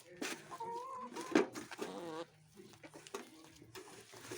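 Backyard chickens wait to be fed in the rainy season, giving close, soft clucks and short calls over several seconds with light background noise.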